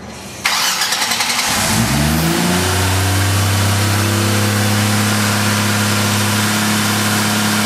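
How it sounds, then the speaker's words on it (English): A Vortec 4200 engine running on Megasquirt with OEM coil-on-plug ignition and crank trigger cranks briefly, catches and settles into a steady, loud, close idle with a strong low drone and no talk. "Motor's running quite well."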